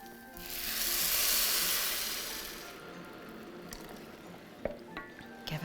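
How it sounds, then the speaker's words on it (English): Boiling water is poured into a pot of rice and peas, a rising hissing rush that swells for about two seconds, then fades into a low sizzle with a few light clinks. "Get the boiling water in."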